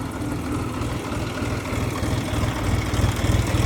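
A 2012 Dongfeng 244 wheeled tractor engine idles steadily nearby, a low rhythmic diesel chug that grows slightly louder toward the end, with no talking.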